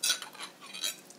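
Small metal spoon clinks and scrapes against a bowl or pan as capers are spooned into vegetables for a Mediterranean chicken dish, a few light taps with a sharper clink at the end.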